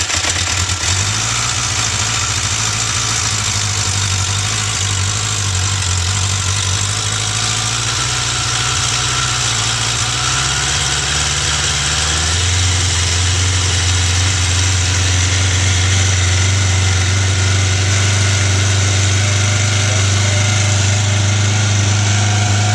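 Suzuki Katana 600 motorcycle engine idling on choke after a cold start, a loud, steady, close drone with a slight shift in pitch partway through.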